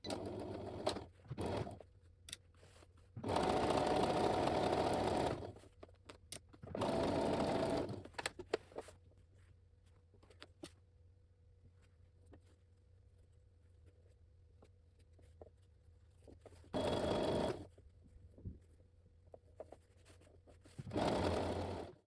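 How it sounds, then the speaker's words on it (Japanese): A sewing machine stitching the seams of a fur vest, in several loud, fast, even bursts of a few seconds each, separated by quiet pauses with faint handling of fabric. "これでミシンが、縫えたところです"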